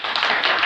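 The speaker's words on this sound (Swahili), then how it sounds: "Sikia Yesu makofi." A church sermon audience applauding for Jesus: a short burst of dense, steady clapping, close and loud, with no talk over it.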